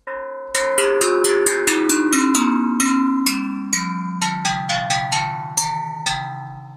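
Tangent drum hit with a wrench, giving bright, bell-like metallic strikes in a quick melodic run of many notes with long ringing overtones that blend together, close and loud with no voices.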